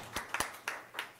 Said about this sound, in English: Could I have some applause for this young man?